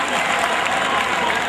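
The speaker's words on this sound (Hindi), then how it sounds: "इस पर तालियां बजनी चाहिए थी" An audience at a mushaira poetry recital in Bhiwandi claps together in a loud, dense burst of applause with crowd murmur, close and sustained for the whole short moment.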